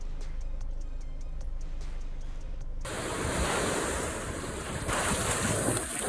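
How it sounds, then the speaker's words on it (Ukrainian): Broadband rushing sea surf near Odesa fills the second half, loud and close, with wind noise buffeting the microphone; quieter ticking and ambient hum come before it. "море просто бомбочка!"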